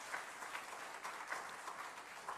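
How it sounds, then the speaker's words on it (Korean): A church congregation applauds during a worship service, a faint, steady wash of many hands clapping that sounds distant and continues without pause. "뜨겁게 박수해 주시기 바랍니다"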